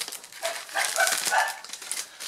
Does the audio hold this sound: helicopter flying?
no